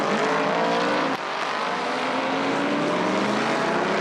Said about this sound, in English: that's Roman Brandella takes the number 50 car around